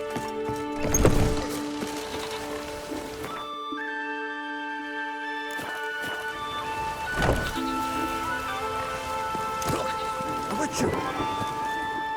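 Steady rain patters through a scene in The Witcher 3 video game, a constant hiss under sustained musical tones with a few heavier thumps.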